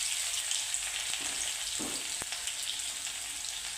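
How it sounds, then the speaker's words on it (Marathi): Garlic and cumin fry in hot oil with an even, close hiss, broken by a few brief crackles and spits. "लसूण हा सोनेरी कलर होईपर्यंत तळून घ्यायचा आहे"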